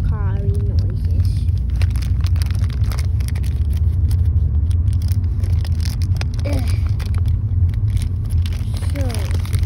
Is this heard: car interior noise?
yes